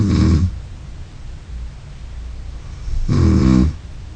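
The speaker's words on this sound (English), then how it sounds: "Before wearing SnoreMedic, the patient recorded snoring while they slept." A sleeping person snores loudly twice, each rough breath lasting about half a second, with a quiet pause of nearly three seconds between them.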